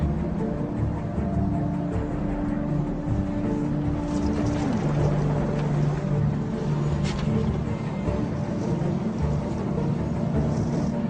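A boat's motor drones steadily and close by, a constant low rumble with a shift in pitch partway through, running alone without any voices.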